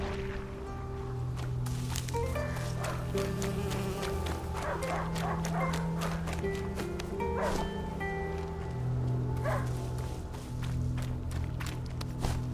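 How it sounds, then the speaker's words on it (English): A dog barks repeatedly in the video game A Plague Tale: Innocence, sharp barks at moderate distance over a constant low buzzing, droning ambience. "He stopped barking. He must have found it."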